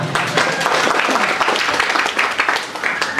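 Loud, dense applause from an audience at a political da'wah event in Indonesia, sustained clapping filling the whole stretch with no clear speech.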